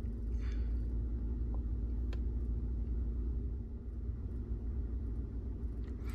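A car engine idles after start-up, a steady low rumble holding even throughout with no talk.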